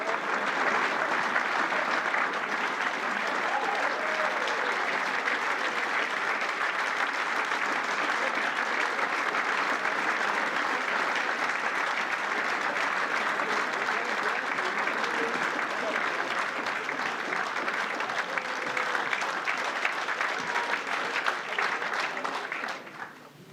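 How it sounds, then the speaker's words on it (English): A long, sustained round of applause from the audience at a fans' forum event fills the room, dense and steady for over twenty seconds before tapering slightly at the end. "the longest round of applause I think most people in the room have ever been involved with"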